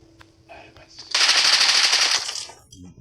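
A Bizon submachine gun fires in an online video game, one loud sustained burst of rapid shots lasting over a second, with faint quieter sounds before and after.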